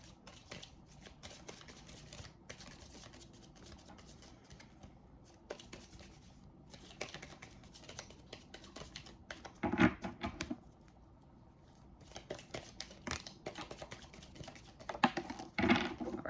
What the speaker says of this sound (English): We're going to go ahead and pull 3 of the tea leaf oracle cards.